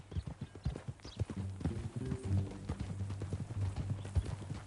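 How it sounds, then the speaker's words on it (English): Horse hooves clip-clopping in a steady walking rhythm in Red Dead Redemption 2, close and clear, with a faint whinny in the middle. "That a new horse?"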